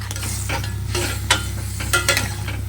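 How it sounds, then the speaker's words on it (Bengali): Curry gravy in a cooking pot, seasoned with green chillies, cumin and coriander paste, simmering with a steady low bubbling hiss, punctuated by a few sharp clinks and scrapes of stirring close by. "ফুটবে, অনেকটাই ফুটবে"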